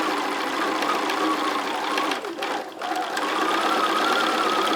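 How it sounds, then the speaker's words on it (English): A sewing machine runs steadily while stitching down a threadcatcher handle, a continuous mid-pitched whirring hum with a brief pause partway through before it resumes. "You just want to sew all the way down the handle, like so."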